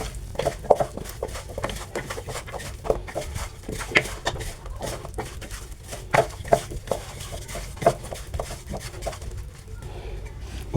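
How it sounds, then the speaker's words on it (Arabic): Chicken wings being turned and mixed in a bowl or pan, a run of soft irregular clacks and wet thuds, close by and without talk. "وهنقلب كله في بعضه اهو"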